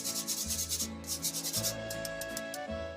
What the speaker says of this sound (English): Then using a spoon, a spatula, whatever you have, just start working it through the